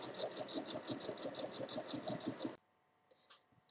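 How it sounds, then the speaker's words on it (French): A sewing machine topstitching fabric for a drawstring pouch, a rapid even rattle of needle strokes that runs steadily, then stops abruptly, followed by a couple of faint handling clicks. "je vais venir faire une surpiqûre"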